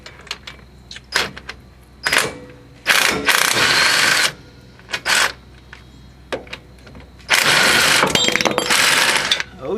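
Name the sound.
half-inch drive ratchet turning a bolt on Ford Explorer hub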